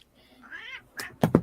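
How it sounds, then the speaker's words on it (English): A pet cat lets out a rising meow, then a few quick thuds follow as it slips and falls off a chair indoors, close and fairly loud. "my cat just fell off the chair"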